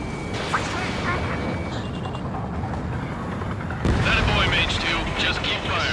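Heavy gunfire and rumbling explosions from the combat flight game Ace Combat 7, a loud, continuous barrage that swells partway through, with talk over the noise.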